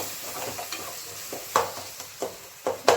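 Tomatoes sauté in a pan for a kaalan mushroom pepper fry, a soft continuous sizzle broken by a handful of spatula strokes scraping and tapping the pan in an uneven rhythm.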